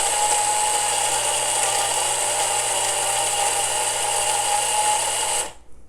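Electric grinder running on toasted milk thistle seeds, a loud, steady whirring grind close by that continues for several seconds and then cuts off abruptly near the end.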